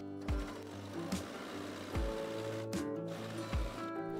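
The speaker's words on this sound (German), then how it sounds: "Wir werden 2 parallele Nähte nähen." A sewing machine runs long straight stitches along parallel gathering seams on a skirt, in several short bursts with brief pauses and clunks between them.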